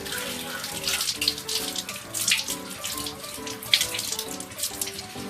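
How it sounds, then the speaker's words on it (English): Water runs steadily from a tap, splashing and gurgling as hands move under the stream, with uneven bursts of spatter throughout. "Rinse your hands with water"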